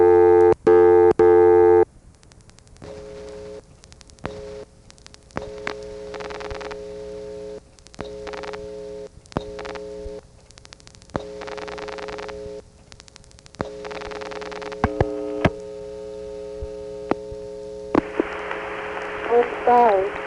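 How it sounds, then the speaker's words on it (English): Telephone reorder tone on a 1976 call placed to a number in Morgantown, Pennsylvania, served by an electronic switching exchange: loud, steady electronic tones broken into on-off bursts of varying length, with some clicks and a brief shift in pitch near the end. "Here's one more call to the same thing. It's also going to have a loud reorder."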